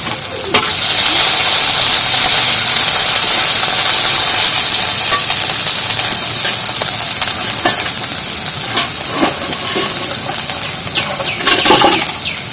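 Grated ginger drops into hot oil and sets off a loud, steady sizzle and crackle that runs throughout, close and without speech, with occasional louder spits and stirs.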